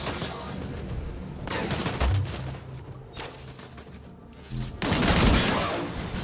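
Heavy gunfire in the shooter game Disintegration, dense bursts and booming shots in two loud volleys separated by a quieter stretch of sporadic fire.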